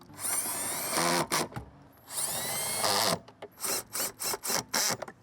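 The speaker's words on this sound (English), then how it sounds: "let's go ahead and re-bolt these 10mm bolts." A power tool drives 10mm bolts back in on a 2020-2023 Toyota Tacoma, buzzing in two longer runs and then a series of short rapid bursts, close and fairly loud, with no voices.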